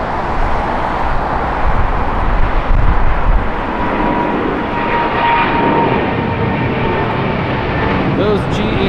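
A Boeing 777's GE90 engines roar steadily on takeoff from Los Angeles International Airport, a loud broadband rumble with a rising whine, wind buffeting the microphone throughout.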